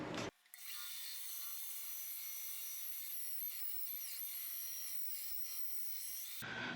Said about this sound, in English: I'll just run him right through the bandsaw just like that and split him.